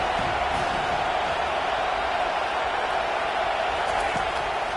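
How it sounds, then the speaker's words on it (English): Stadium crowd noise at a college football game, TCU versus MTSU, swelling behind the defense on third down; a steady, broad roar fills the stands without letup, with a commentator talking over it. "Decibels rising as the crowd gets behind this defense on 3rd down"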